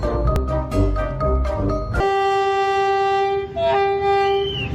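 A train passes in India, its long steady horn blaring loudly after a short burst of rumbling, clattering movement, with the tone holding and bending near the end.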